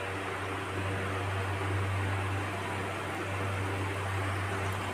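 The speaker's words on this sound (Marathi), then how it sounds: "आता आपण हे शंकरपाळे तेलात सोडून घेणार आहोत।" Shankarpali dough pieces fry in hot oil, giving an even, continuous hissing sizzle with a low steady hum underneath and no talk.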